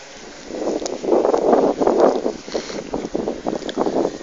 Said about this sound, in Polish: słychać świst jego łopat, które pod wpływem silnego wiatru